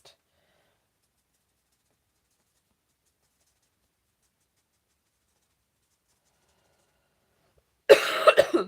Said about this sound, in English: apologies everyone for my nasty cough